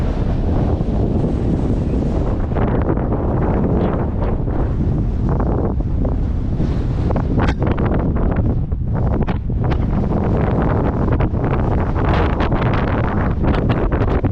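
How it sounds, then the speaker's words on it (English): Strong outdoor wind buffets the microphone in a continuous loud roar with gusty surges, recorded in Black Rock Forest, New York. "There's no way when that wind's that loud you can hear me."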